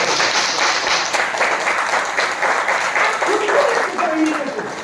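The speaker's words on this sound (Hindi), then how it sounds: "एक बार जोरदार तालियां" Loud, dense audience applause at a motivational talk, steady clapping carrying on for several seconds with a brief voice near the end.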